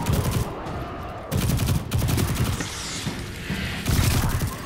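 Rapid bursts of video game gunfire, loud and dense, with automatic weapons rattling in several close, sustained volleys broken by brief pauses.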